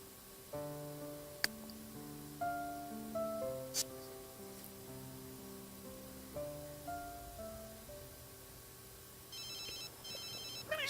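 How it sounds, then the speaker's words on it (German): A telephone ringing in the video game The Sims 3, a quiet electronic ringtone repeating a short melodic pattern several times, with brief chimes and little else around it. "jetzt leitet schon wieder ein Telefon"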